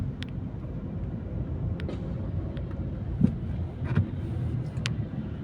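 Slow, crawling traffic on C5 road near Ortigas gives a steady low rumble of engines and tyres, with a few faint knocks and passing bumps over the continuous hum.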